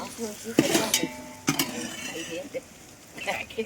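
Spices and soy chunks fry in a pan, giving a soft sizzle under brief scrapes and clinks of a spoon stirring against the metal, with a couple of sharper knocks near the start.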